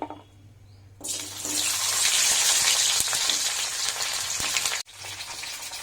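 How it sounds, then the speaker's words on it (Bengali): Cauliflower pieces fry in hot oil in a wok, a loud steady sizzle that swells suddenly and holds, then drops briefly and resumes. "প্রথমে ফুলকপিগুলো ভেজে নেব।"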